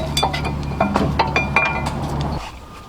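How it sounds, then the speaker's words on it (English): Metal clinks and light rattles come as the rear brake caliper bracket of a 2012-2019 Mercedes GL-Class (X166) goes back on with two 18mm bolts, several sharp ringing taps close by before a sudden stop. "reinstall the caliper bracket into the back with the 2 18mm bolt screws"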